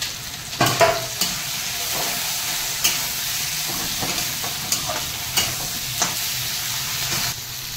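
Tomatoes with cumin paste, black pepper paste and Kashmiri chilli sizzle in a pan for catfish curry, a constant frying hiss punctuated by occasional clacks and scrapes of a stirring spoon, close with no talk.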